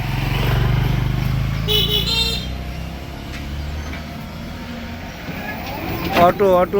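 Motorcycles and auto-rickshaws pass along a riverside road by the Balu river, engines droning close with a few horn toots near the end, someone talking over the traffic.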